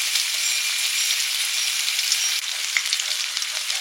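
Dakhur fish fry in oil over a stove with a loud, dense sizzle. The crackle holds steady throughout, with a few sharper pops and no talking.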